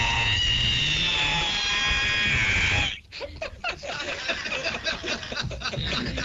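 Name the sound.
voice imitating creaking ironing board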